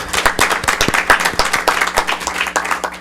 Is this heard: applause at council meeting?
yes